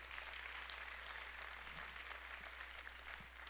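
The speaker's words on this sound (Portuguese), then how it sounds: "Então dê uma salva de palmas para o Senhor Jesus." Faint, distant applause from a church congregation in praise of Jesus, a soft continuous patter of clapping over a steady low hum.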